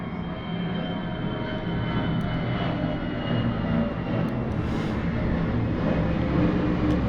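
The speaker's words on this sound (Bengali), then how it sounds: "খালি প্লেন যায়, প্লেনের আওয়াজে ঘরের মধ্যে টিভি চালালেও শোনা যায় না" An airplane passing low over a home, its steady engine roar filling the air and swelling slightly toward the end, loud and continuous with no speech.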